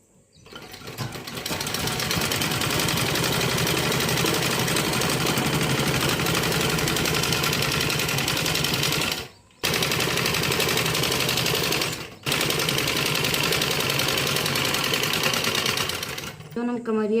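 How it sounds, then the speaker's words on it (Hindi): A sewing machine runs steadily and loudly while stitching a blouse, with two short pauses partway through and a faint rattling mechanical drone. "नीचे ऐसे सिलैया मारो।"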